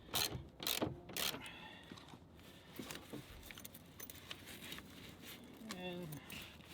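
Ratcheting and mechanical clicking as a cargo bag mount is tightened down on a Jeep Wrangler, close and moderately loud at first, then quieter fiddling and rustling as a person talks.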